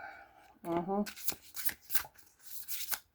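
Tarot cards being shuffled by hand, a quick riffle followed by several soft, papery flicks and taps, close and moderately loud, with talking mixed in.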